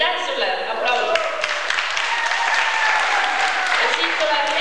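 Steady crowd applause at a 2004 school talent show stage event in Paldiski, Estonia, dense and sustained clapping throughout, loud and close, with no voices over it.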